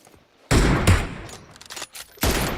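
Gunshots in the battle royale game PUBG Mobile: loud, close bursts of fire in three clusters, each a sharp onset with a ringing tail, separated by short quieter gaps.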